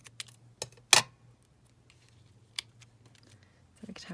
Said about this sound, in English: Just snip that in half.